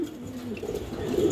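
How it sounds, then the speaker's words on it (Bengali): A pair of fancy pigeons at a pigeon market coo softly, a low, rolling, repeated call that stays fairly quiet against light background noise. "এই মুহূর্তে আমরা দেখতে পাচ্ছি এক জোড়া শোকিং কবুতর"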